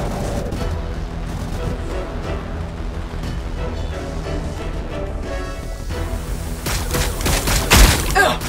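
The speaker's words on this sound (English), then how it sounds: "We're taking fire!" Heavy gunfire and booming artillery from the PC strategy game Warhammer 40,000: Battlesector roll in dense, overlapping volleys, swelling into a loud crash near the end.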